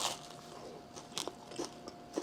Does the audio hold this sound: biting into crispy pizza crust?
yes